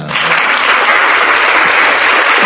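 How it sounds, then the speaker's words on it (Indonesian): A loud, dense wash of audience clapping fills the room during a religious discussion, with the noise holding steady and even throughout. "Tepuk tangan."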